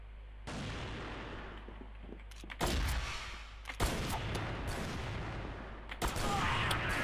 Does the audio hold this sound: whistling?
no